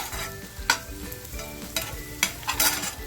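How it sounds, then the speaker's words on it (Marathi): Two green chillies fry with browned onions in hot oil for a mutton pepper fry, giving a soft, even sizzle with a few distinct clacks and scrapes of a spoon stirring the pan. "दोन मिरच्या घेतल्या त्या मिरच्यासुद्धा टाकते या कांद्याबरोबर म्हणजे त्याही अशा छान फ्राय होतील"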